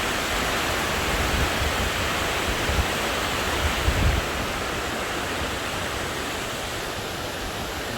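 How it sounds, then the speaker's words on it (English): A river in Costa Rica's Orosi Valley flows in a steady, broadband rush seen from a bridge, continuous and fairly loud throughout with a few slightly stronger swells, and no voices. "so you guys can enjoy the area and listen to the river"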